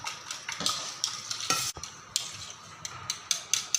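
Eggs fry in hot oil in a pan while a spatula scrapes and taps against the metal, sending out quick bursts of sizzling and clinks over a steady crackle close by. No one speaks.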